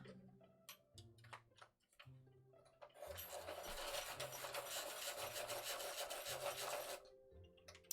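A coloured pencil is sharpened in a lap during colouring, a scratchy, rasping grind that runs steadily for about four seconds after a few scattered light taps and clicks, heard faint and close.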